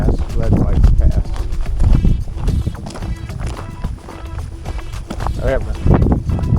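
A horse clip-clops along a mountain loop trail with loose rhythmic hoof thuds, close and prominent, while people talk over it.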